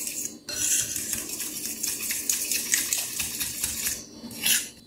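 Spoon scraping and clinking steadily against a bowl while cornmeal bread batter with milk is mixed by hand for a skillet loaf, continuous close rhythmic stirring with a short pause near the start.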